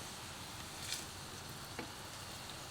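Chinese meat pies fry in hot oil with a steady, soft sizzle and faint crackle, continuous and close throughout with a couple of small pops.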